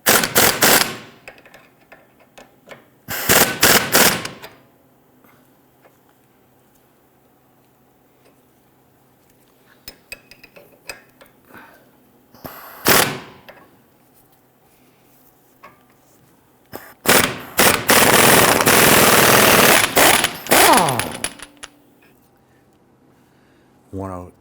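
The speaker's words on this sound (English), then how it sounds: "we can use our impact gun and our 24mm socket" Impact gun fitted with a 24mm socket spinning off the steering tie rod jam nut on a 2011-2023 Dodge Charger, several loud bursts of rapid hammering separated by quiet pauses, the longest burst near the end.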